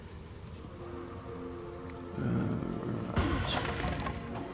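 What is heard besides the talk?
rain spell in the video game Divinity: Original Sin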